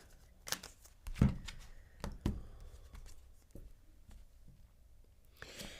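Tarot cards are handled and shuffled at close range, giving a few sharp slaps and soft riffling taps spread irregularly through a quiet room.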